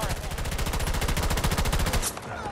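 AM40 rifle with a drum magazine firing in Battlefield 2042: a loud, unbroken burst of rapid automatic fire for about two seconds, then a brief tail, with a voice faintly underneath.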